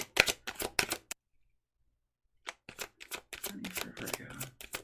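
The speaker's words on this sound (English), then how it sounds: "One more shuffle." Tarot cards shuffled by hand in two bursts of quick, crisp riffling and flicking separated by a silent pause, with some soft handling noise near the end.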